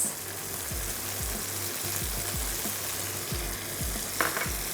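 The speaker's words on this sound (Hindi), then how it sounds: "और अब मैं इसमें शामिल करने जा रही हूँ सुर्ख प्याज" Matar pulao fries with a steady, close sizzle as browned onions are added. A series of soft regular thumps runs underneath, likely from a spoon stirring in the pot.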